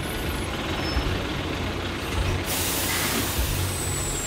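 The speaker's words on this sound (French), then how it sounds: "Il y a un bus qui arrive?" A bus pulls in and its air brakes let out a long, loud, steady hiss over a low engine rumble, close by and with no voices.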